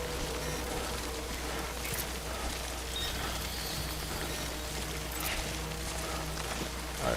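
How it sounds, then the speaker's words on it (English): Heavy rain in the video game Death Stranding, played on hard mode, forming a constant, dense wash of falling water with faint, brief taps and clicks from the game layered on top. "which is why it's raining so fast."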